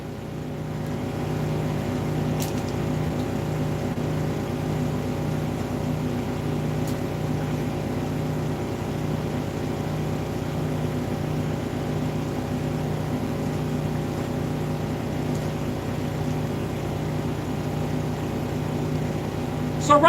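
A plastic-to-oil machine heated by microwave magnetrons, three of six switched on, runs with spinning blades, giving a steady, loud mechanical hum and drone that holds constant for twenty seconds with a few faint clicks.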